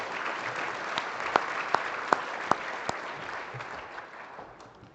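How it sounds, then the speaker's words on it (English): Sustained applause from an audience at a 4-H livestock judging awards ceremony honoring quiz bowl teams, steady dense clapping with a few sharp near claps, gradually tapering off. "Let's give one more time a round of applause to all of our Quiz Bowl teams"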